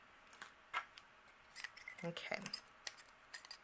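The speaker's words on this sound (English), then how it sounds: "let's take our scissors. You may have some excess overhanging. We're going to just trim off the excess here." Scissors snip excess cardstock off a handmade card in a series of quiet, close crisp cuts, while a person speaks briefly.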